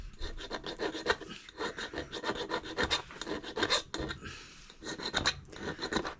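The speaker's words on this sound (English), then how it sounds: "I haven't filed that very good, have we?" Hand file rasping across a metal surface being cleaned before MIG welding, a series of quick scraping strokes in an uneven rhythm, close and fairly quiet, with no talking.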